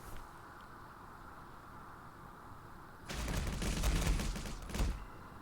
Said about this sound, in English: So I like to use a regular grenade in the cave.